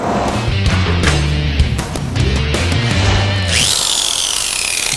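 Angle grinder fitted with a Multitool Portagrind attachment working metal in a garage, a loud, close, rough grinding roar with bumpy load changes, then settling into a high, smooth whine as it spins freely near the end.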